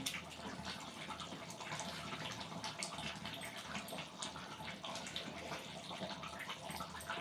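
Water poured into a pot of chicken curry to make the gravy, a steady continuous splashing and trickling that stays fairly loud and even throughout, with no talking.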